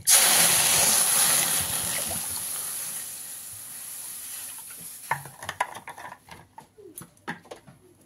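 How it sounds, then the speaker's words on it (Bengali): Moong dal is mixed with water in a wok over a high gas flame: a loud watery hiss fades, then a spoon scrapes and clinks against the wok in irregular strokes. "দিয়ে গ্যাসের ফ্লেমটাকে হাই করে ডালটাকে এরকম ভালোভাবে জলের সঙ্গে মিশিয়ে নেব, যাতে নিচে বসে না যায়"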